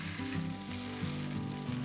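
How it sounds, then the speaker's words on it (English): Food sizzles steadily in a hot pan, a soft continuous crackle with low humming underneath and no voices. "Can you hear all that sizzling?"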